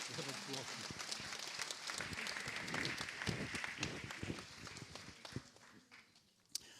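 Audience applause at an awards ceremony during a New Year's wishes event, with dense steady clapping that fades toward the end, under some talk.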